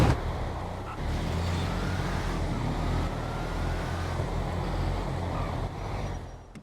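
Two Chevrolet Nova cars roar side by side down a drag strip in GTA V, a loud, steady engine drone sustained for several seconds before cutting off abruptly at the end.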